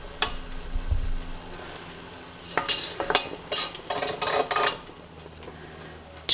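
Pectin-free strawberry jam cooks in a pot, bubbling and sizzling steadily up close while a spoon stirs, with several clinks and scrapes against the pot midway and no voices.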